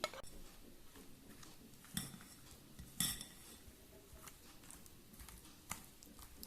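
Broccoli pieces being mixed with a creamy malai marinade in a bowl, soft scraping and light clinks of a utensil against the dish, with a few sharper taps, quiet and close without voices.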